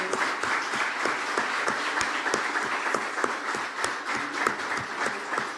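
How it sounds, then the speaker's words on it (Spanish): Audience at a debate applauds as panelists are introduced, a continuous, even patter of many hands clapping, moderately loud and with no voices over it. "Otro aplauso, por favor, para Rodrigo."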